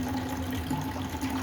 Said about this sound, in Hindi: पानी भर रहा हूँ देख लो।